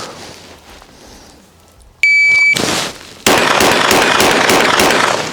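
A shot-timer beep starts a pistol training drill, followed by loud, close pistol shots, the later ones coming in rapid succession with reverberation between them.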